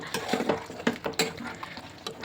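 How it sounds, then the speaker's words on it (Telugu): Spoon stirring paneer masala curry in a pan after spice powder is added: soft scraping and light clinks in an irregular rhythm, close but quiet. "ఇలా పౌడర్ వేసుకున్న తర్వాత మసాలా ఒకసారి కలుపుకోవాలండి నీట్గా"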